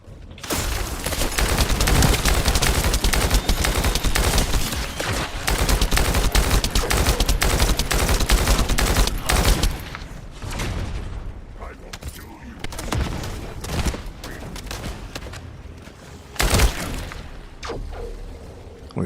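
Sustained automatic gunfire in the looter shooter The First Descendant, loud and dense for the first half, then thinning into scattered shots and a single sharp blast near the end, with a voice talking over parts of it.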